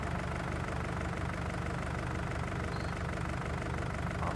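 John Deere tractor engine idling in a farming simulator game, a steady low rumble that holds an even, continuous drone throughout with no talking.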